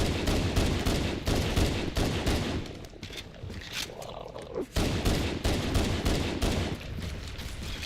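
Shotgun fire in Halo CE, rapid heavy blasts in quick repeated bursts, loud and near, with a short lull midway before the shooting resumes.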